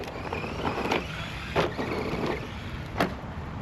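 An Arrma Granite 4x4 665 Mega RC basher at full throttle around a yard and off ramps, a steady electric motor whine with a few sharp bumps and clatters from landings, close by and without talk.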